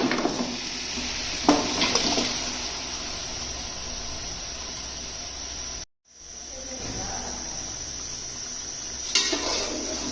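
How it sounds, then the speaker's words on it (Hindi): Boiled beef goes into garlic frying in oil in a karahi pan for beef karahi. A steady, loud sizzle runs throughout, broken by a couple of clattering knocks and one brief moment of near silence. "अब इसके अंदर हम डालेंगे गोश्त।"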